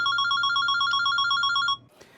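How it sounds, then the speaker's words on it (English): A telephone bell rings in a loud, rapid trilling pattern for nearly two seconds, then cuts off abruptly and leaves a brief click and near silence. "But out of the blue comes the phone call."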